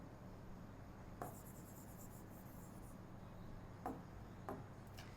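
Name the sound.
writing by hand during a lesson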